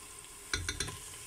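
Onion and tomato paste fry in a pan under a soft steady sizzle, broken by three quick close stirring scrapes about half a second in, with no voices.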